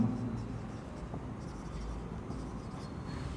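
An accounts entry is written during a lesson, with a pen scratching faintly and steadily across a board or paper against a low background hum.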